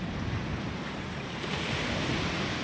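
Ocean waves washing onto a beach on Flores island, a continuous broad surf roar with some wind buffeting, steady and fairly loud with no voices.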